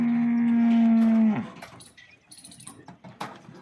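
A cow lets out one loud, long, steady moo at close range as it is loaded onto a truck among other cattle in Jamnagar, then the call cuts off into quieter shuffling and clatter.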